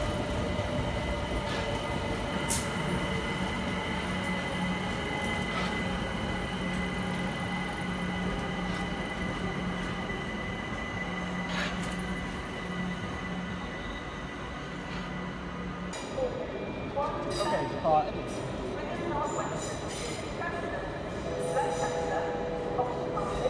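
A London Overground train arriving at a station, its rumbling wheels and steady hum rolling close by with a sustained tone and faint squeals, changing character toward the end as it slows.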